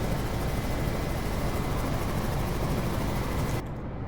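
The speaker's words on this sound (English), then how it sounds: "I think that's my helicopter landing." Helicopter landing in the naval strategy game Carrier Command 2, a steady, loud rotor-and-engine roar that holds evenly, then drops slightly in level near the end.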